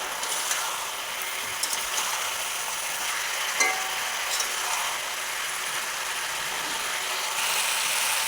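Pumpkin stir-frying in a pan over a raised gas flame, giving a steady, moderately loud hiss and sizzle with occasional scraping clicks from stirring, and no voices.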